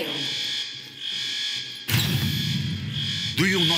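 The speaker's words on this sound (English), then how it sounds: "Do you not hear the alarms, Robert?" Reactor alarms blare in the video game Sniper Ghost Warrior 3, a loud, steady electronic tone that cuts abruptly between sections, with game sound effects rumbling underneath and a rising burst near the end.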